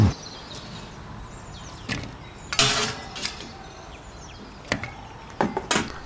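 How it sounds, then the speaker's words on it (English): Grilled Jersey Royal potatoes tumble into a bowl in a few scattered knocks and clatters, with one louder clunk partway through and sharper taps toward the end, close by against a quiet kitchen background. "That's all of them into a bowl"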